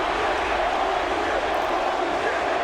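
A rowdy Detroit crowd in the WWE 2K25 wrestling game gives a dense, steady roar of cheering that fills the whole short stretch at constant loudness, with no gaps or changes.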